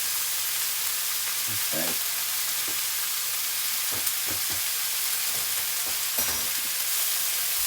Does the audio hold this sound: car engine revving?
no